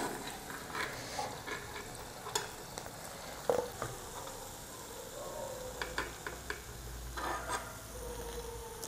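Paneer pieces fry in oil until light golden, with a steady, soft sizzle and scattered clicks and pops of spatula stirring throughout, with no talk.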